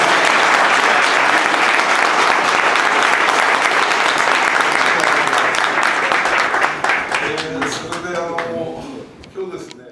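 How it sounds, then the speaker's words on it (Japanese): An audience at an exchange gathering tied to the Hokkaido Nippon-Ham Fighters' 2019 Okinawa camp gives a full, even round of applause that thins out after about seven seconds as a voice begins speaking. "ひときわ心を込めて拍手をいただきたいと思います"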